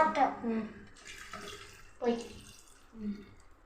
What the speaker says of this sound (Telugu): వాటర్ యాడ్ చేసుకోవాలి